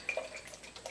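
Water poured into a bowl for mixing Splat hair dye, a brief, quiet trickle and splash with a few light drips, heard close up with no talking.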